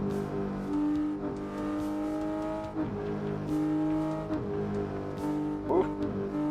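A simulated car engine from the racing game Assetto Corsa revs and shifts through gears, its droning tone rising and dropping repeatedly, loud and continuous with occasional tire noise.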